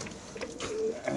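Restless racer pigeons in a cage giving soft cooing calls, with faint rustling and fluttering close by against a busy background for a brief moment.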